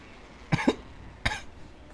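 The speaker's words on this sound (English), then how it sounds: "That was a weak cough." A weak cough in two short bursts, followed by a second light cough, close and isolated against a quiet background.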